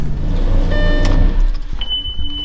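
Crashed Lamborghini Gallardo under rebuild pulling away, a loud low engine rumble that fades into quieter mechanical clicks and a thin whine.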